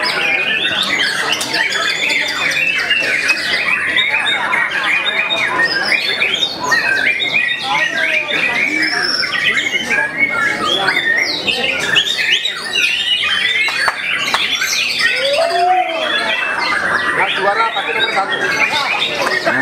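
Dense, continuous birdsong from white-rumped shamas at a songbird competition, with many chirps and squawks from several birds at once, loud and busy throughout, with faint voices mixed in.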